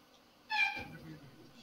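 A cat gives a single short, close meow over a quiet indoor background. A faint murmur of speech follows it.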